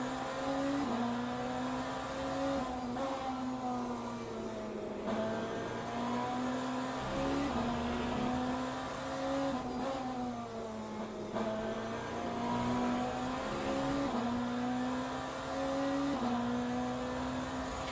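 BMW race car in Le Mans Ultimate accelerating steadily, its engine droning faintly and continuously with brief dips in pitch at regular intervals as gears change.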